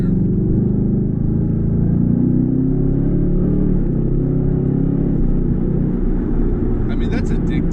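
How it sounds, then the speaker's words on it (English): A 2019 Ford Mustang GT Convertible accelerates uphill in Sport Plus mode, its engine producing a steady, loud, deep drone heard from inside the car, with a voice talking over it. "Now let's put it into Sport Plus and just kind of go up this hill here."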